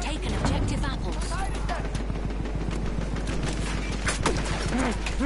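Dense machine gun fire in a multiplayer war video game, continuous rapid bursts and explosions throughout with voices talking over the battle.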